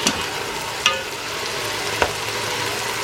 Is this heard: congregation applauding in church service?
no